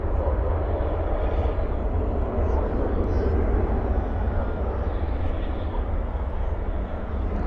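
A jet airliner rolls out on the runway at night with spoilers up and thrust reversers deployed, giving a steady, broad engine roar that holds at an even level throughout.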